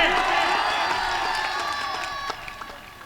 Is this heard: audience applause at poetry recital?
yes